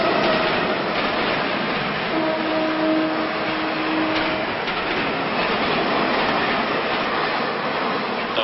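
A train rushing past the door of an artist's studio beside the tracks, used in an artwork, a loud, dense, unbroken roar with faint tonal whines near the start.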